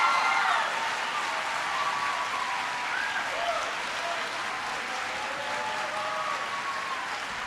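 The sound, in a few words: audience applause for school principal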